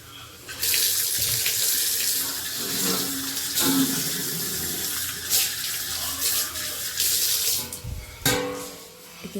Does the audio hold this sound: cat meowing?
no